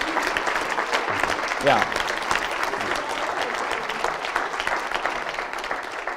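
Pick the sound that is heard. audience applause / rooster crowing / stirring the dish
audience applause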